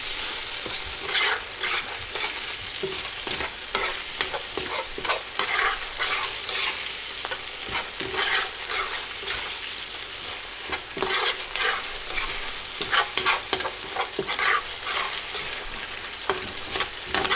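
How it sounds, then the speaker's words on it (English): Kung Pao chicken is stir-fried in a wok with thickening cornstarch sauce, giving a steady bright sizzle broken by repeated scraping and tossing strokes of the spatula, close and loud, with no voices. "we're going to stir it around just until we see that nice thick coating as the cornstarch begins to seize up and thicken"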